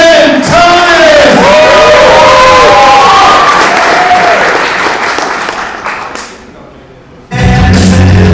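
A loud live crowd at a yo-yo competition jamboree cheers, whoops and applauds for performer Ben Thomas, with voices shouting over the din; the noise swells, fades toward a lull, then bursts back in at full strength.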